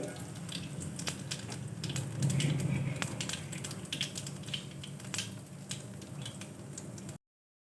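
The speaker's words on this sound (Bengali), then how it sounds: "তেল দিয়ে দিচ্ছি সাদা তেল দিলাম কালো জিরে" Nigella seeds sizzle in hot white cooking oil in a pan, a steady crackling fry with scattered sharp pops, close and moderately loud, with no talking over it.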